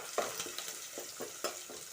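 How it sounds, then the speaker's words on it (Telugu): Curry leaves fry in oil with a soft, steady sizzle, broken by light stirring scrapes at a near, fairly quiet level. "చూడండి ఎలా వేగుతున్నదో"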